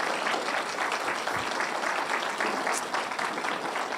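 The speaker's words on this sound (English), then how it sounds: "just give them just a round of applause" A church congregation applauds in a steady, even wash of clapping that stays close and constant throughout, with little voice beneath it.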